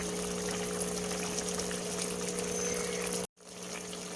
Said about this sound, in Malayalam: നമുക്കിതിലേക്ക് ആവശ്യത്തിന് പുളിവെള്ളം ഒഴിച്ചു കൊടുക്കാം